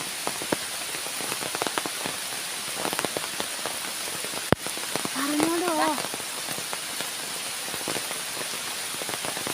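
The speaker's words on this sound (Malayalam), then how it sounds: "നല്ല സുഖമാണ് ഈ മഴയൊക്കെ നടക്കാൻ" Steady rain falling outdoors, a dense even patter of drops throughout, broken by one sharp crack near the middle and a brief tonal call shortly after.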